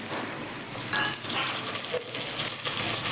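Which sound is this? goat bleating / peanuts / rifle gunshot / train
peanuts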